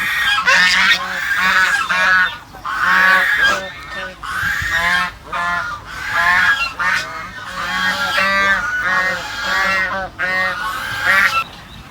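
Loud, repeated honking calls from a group of ducks, sounding close and continuous, with brief pauses between bursts of overlapping cries.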